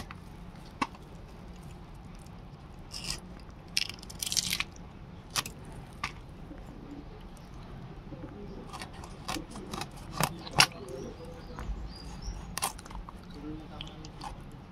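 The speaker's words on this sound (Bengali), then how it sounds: "এবার এই কানকোটা কেটে নেব এইভাবে।" A knife cuts through the gills of a freshly caught pond fish after scaling, giving several short crunchy snips and squelches at close range, scattered over a low background hum with no talking.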